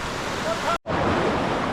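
Sawat Kada waterfall at Murud Janjira, a loud, continuous roar of rushing water heard up close with wind buffeting the microphone, cut by a brief dropout partway through.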